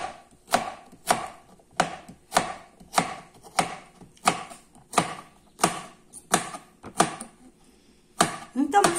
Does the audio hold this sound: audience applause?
no